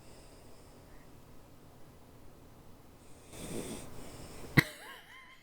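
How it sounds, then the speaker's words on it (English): A dog's soft, slow snoring breaths at low volume, one louder snort-like rush midway, and a sharp click near the end. "Can you hear Maxie snoring?"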